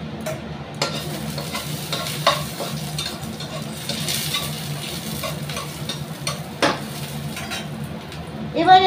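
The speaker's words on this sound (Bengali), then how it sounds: "আর সরষের তেলের মধ্যে আমি দিয়ে দেবো দেখো তিনটে শুকনো লঙ্কা।" Three dried red chillies frying in hot mustard oil give a steady, fairly loud sizzle with stirring scrapes and a few clinks of a utensil against the pan.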